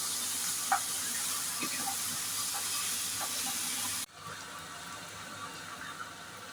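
Baby corn and paneer fry with salt in a pan. A loud, steady sizzle hisses close by, then abruptly drops to a quieter, softer hiss partway through. No one speaks.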